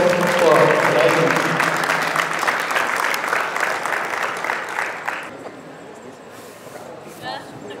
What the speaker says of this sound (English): One more big round of applause for the Purple Star Club.